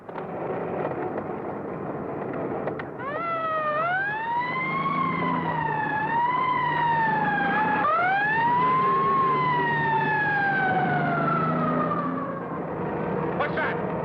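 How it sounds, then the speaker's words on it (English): A loud police car siren wails, sweeping up and down continuously, close by, with engine rumble underneath. "That's a police car."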